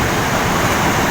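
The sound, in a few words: sea waves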